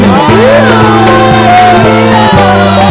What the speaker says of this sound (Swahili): Wapi vigelegele kwa Yesu?